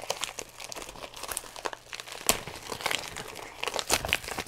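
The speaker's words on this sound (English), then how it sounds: "I left it wrapped in the original mailing" Crinkly paper and plastic mailing packaging around a gift being torn and crumpled in bursts of rustling, close by, with sharp rips scattered throughout.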